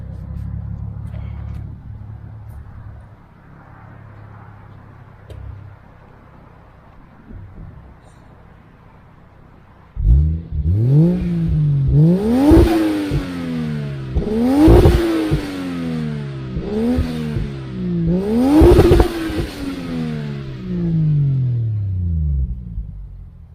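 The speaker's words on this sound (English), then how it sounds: "let me give y'all a little rev out of this" A Lexus GS300's 1JZ engine idles with a low rumble, then revs hard several times in a row, each rev climbing in pitch and falling back, loud and close.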